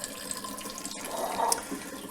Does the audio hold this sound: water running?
yes